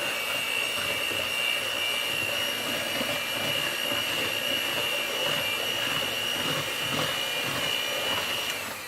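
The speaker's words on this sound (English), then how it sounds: "take your mixer and just blend your sugar and your butter together so it's all combined" An electric hand mixer whirs steadily as it creams sugar and butter together for peanut butter oatmeal cookies, a constant high-pitched motor whine with a gritty churning texture lasting the whole time, loud and close.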